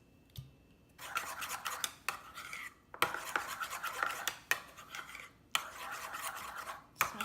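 A spoon scrapes and clinks around a bowl as crispy burrito filling is mixed with Valentina Mexican hot sauce, quiet, irregular strokes with short pauses between them and no voices.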